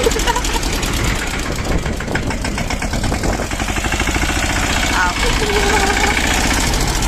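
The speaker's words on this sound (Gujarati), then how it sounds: "બેને ફાઇનલી ચડાવી લીધું ટ્રેક્ટર, ચલાવી લીધું" A heavy engine chugs steadily with a rough, knocking rhythm, loud and close, while people talk over it.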